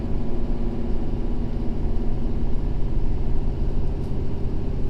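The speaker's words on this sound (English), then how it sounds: "The dually hauling a gooseneck." A Ford F-550 dually truck towing a gooseneck trailer rumbles with a steady, loud low engine drone and road noise, with no other sound standing out.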